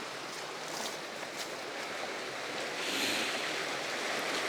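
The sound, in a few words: river flowing on a countryside walk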